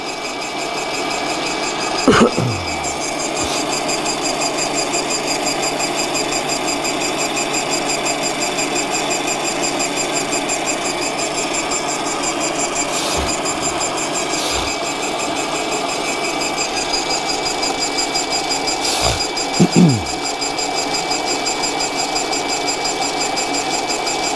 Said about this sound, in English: it always takes a little bit for the unit to suck in the paint and get it through circulation